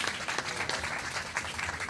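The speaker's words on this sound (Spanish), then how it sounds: "Aplausos." Applause at an outdoor public assembly of the Valencia protest camp, a continuous, fairly dense patter of many hands clapping at moderate level for the full two seconds.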